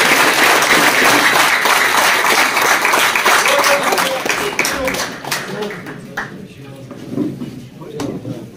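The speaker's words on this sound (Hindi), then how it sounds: "एक बार इनके लिए ऐसी तालियां" Sustained applause and clapping from an audience at the All Kashmir Car Cup 2023 award ceremony, held by a pigeon sports club, dense and loud at first and then thinning out, with a voice speaking over it.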